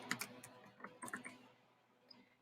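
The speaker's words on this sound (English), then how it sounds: "So more typing" Light clicking of a computer keyboard, a quick cluster of faint keystrokes close by that trails off into quiet.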